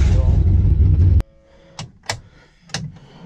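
A car engine running on racing fuel roars loud and close, then cuts off abruptly after about a second, leaving quiet, scattered clicks and knocks.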